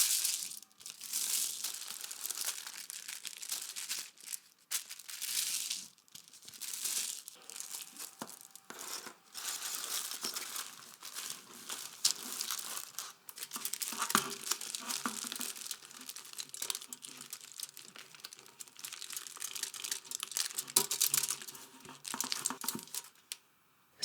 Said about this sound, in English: fold a large strip of foil, about 3 feet, and wrap this securely around the pan.